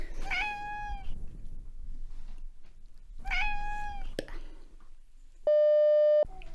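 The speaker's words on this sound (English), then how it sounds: "Cat." A cat meows twice, a few seconds apart, each a clear rising-and-falling call, followed by a steady electronic beeping tone near the end.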